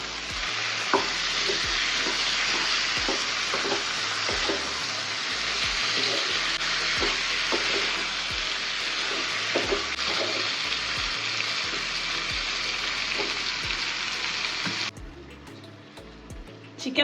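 Chicken frying with ginger and garlic in a pan, a loud continuous sizzle broken by repeated rhythmic scrapes of a spoon mixing, up close, easing slightly near the end.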